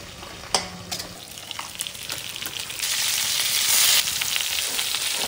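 Fish masala with curry leaves and garam masala sizzles in a pan for a rabbit fish biriyani while being stirred. Close, steady frying crackle with scraping stirs swells into a louder hiss partway through.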